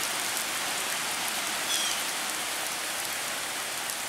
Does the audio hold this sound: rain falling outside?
yes